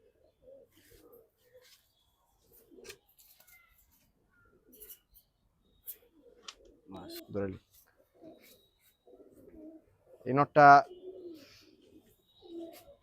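Pigeons coo in a rooftop loft in Hazaribagh, Dhaka: scattered soft coos across a quiet background, with a louder, fuller burst of cooing near the end.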